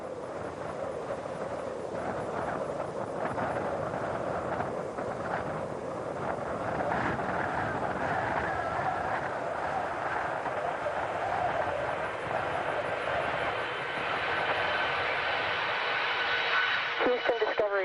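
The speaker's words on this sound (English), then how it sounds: "Discovery is rolling out on runway 33 at the Kennedy Space Center" Space Shuttle Discovery rolls out on runway 33 at Kennedy Space Center after landing, a steady loud broadband roar with a rising tonal whine near the end, and a voice talking over it.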